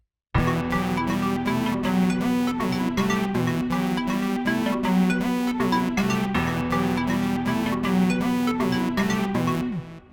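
Full hip-hop beat with steady drums under layered melodic loops and a lead, playing continuously and loud with no talking.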